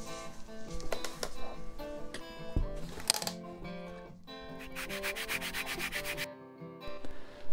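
Wooden flying braces for a custom acoustic guitar being sanded to a final fit, a steady close scratchy rubbing that runs in repeated strokes, loud throughout with no talking.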